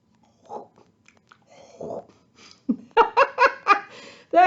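Children mimic a cow's chewing with playful mouth noises, short scattered bursts that break into giggles and laughter, near and fairly loud.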